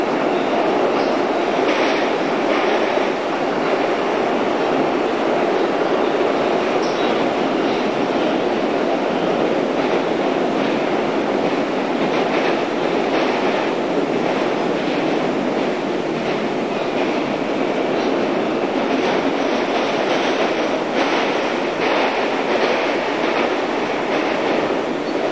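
A simulated R160 New York subway train on the A line runs steadily toward Euclid Avenue, with a constant loud rumble of motor and wheels on track and a few faint clicks over the top.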